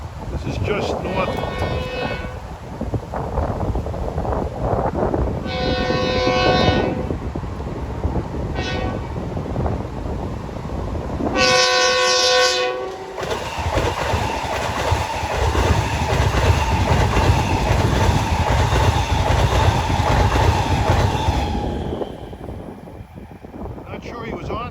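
An M9 electric multiple-unit commuter train on the Port Jefferson Branch rumbles past with several long horn blasts, wheels clattering on the rails and wind buffeting the microphone.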